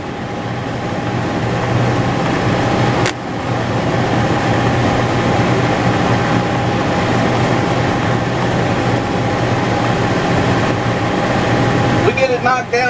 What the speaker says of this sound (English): Engage that brush hog.